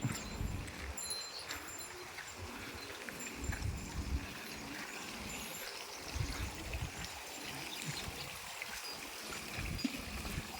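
Small garden waterfall trickling steadily outdoors, a continuous soft splashing flow with faint bird chatter in the evening background.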